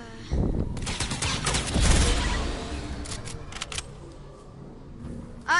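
Rapid gunfire bursts in a multiplayer shooter video game played in duos, loud and dense at first then thinning into scattered shots, with brief sharp effects near the end.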